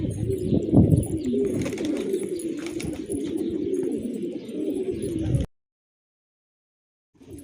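Domestic pigeons let out of doors coo steadily and close by for about five seconds, then the sound cuts to silence.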